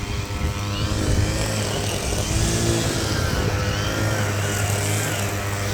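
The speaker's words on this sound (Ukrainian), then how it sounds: "Там газонокосарка" A motor drones steadily outdoors, a continuous mid-pitched engine hum with a buzzing tone, fairly loud and unbroken throughout.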